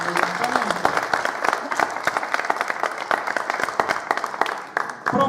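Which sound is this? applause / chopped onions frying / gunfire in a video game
applause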